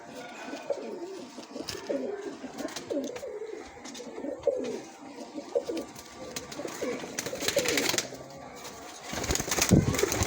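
Several pigeons coo in soft, repeated rolling calls close by, with occasional wing flutters and rustling, faint voices murmuring now and then.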